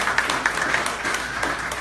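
An audience at KRob 2017 claps in a steady, moderately loud patter of many hands, continuous across the short stretch with no voices on top.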